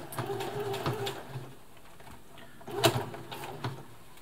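A Brother Extra Tough domestic sewing machine stitching over a lump of fabric, quiet mechanical whirring that dips and surges, with a couple of louder thumping pushes as the needle works through the thick spot.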